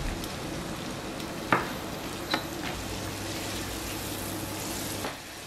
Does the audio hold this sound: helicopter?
no